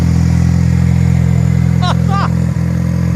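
Ford Focus sedan with a swapped ST engine and an open downpipe idles loud and steady close by, a constant rough drone, with brief voices and whoops over it.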